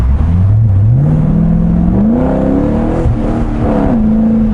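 A Corvette C6 Grand Sport's 6.2-litre V8 exhaust revs up loudly and close, the engine note climbing in steps and briefly dropping back, a deep throaty roar with no talk.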